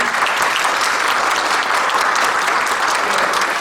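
Steady, dense audience applause fills a symposium opening ceremony hall, loud and continuous throughout with no voices above it.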